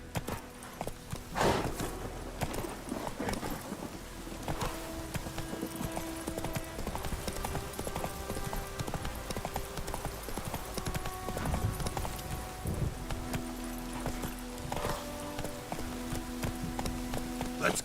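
In The Witcher 3, the horse Roach trots along with a steady, continuous clip-clop of hooves beneath game music and ambience, with a little speech at times.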